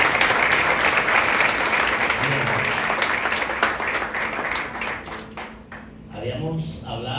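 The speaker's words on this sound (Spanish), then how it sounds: "Vamos a dar un fuerte aplauso a Dios." A church congregation claps in praise, a full burst of applause that thins out over several seconds while a voice speaks over it.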